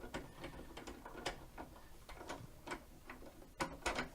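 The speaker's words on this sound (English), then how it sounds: "you have to unscrew the silver screw on the left" A small silver screw on the presser foot of an ALDI So Crafty digital sewing machine is turned loose by hand, giving a run of quiet, uneven ratcheting clicks and ticks close up.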